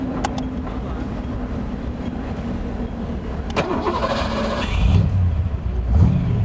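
A 1996 AC Cobra MkIV's Ford V8 cranks with a whirring starter, then catches and rumbles to life, revving up with a deep throaty roar close by.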